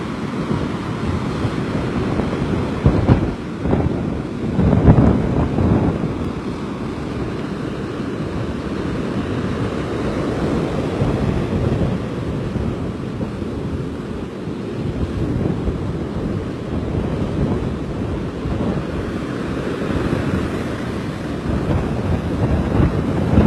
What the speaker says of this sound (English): we'll take a look at the waves as they come crashing up on shore here.